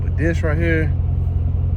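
A Corvette C7 Stingray Z51 engine idles with a low steady rumble while maneuvering, close and constant beneath someone talking briefly.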